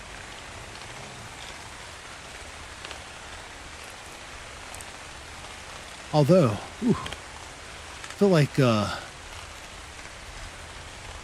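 Steady rain hiss from the game Ark Survival Ascended, set on the Ragnarok map, runs as a soft, even wash through the whole stretch while someone talks briefly in two short bursts near the end.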